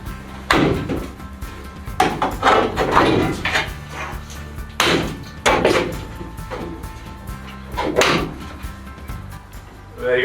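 A camper van's body pillar is pried and pulled off after its spot welds were drilled out, giving a series of loud metallic bangs, clanks and creaks in irregular bursts, with quieter gaps between.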